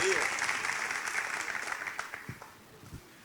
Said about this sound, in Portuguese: Então dê uma salva de palmas para o Senhor Jesus.